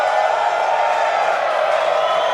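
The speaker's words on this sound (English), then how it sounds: "And a lot of cheering here in Hawthorne." A crowd cheers at SpaceX Hawthorne during a Starship launch countdown, a loud, sustained wash of voices and whoops without distinct words.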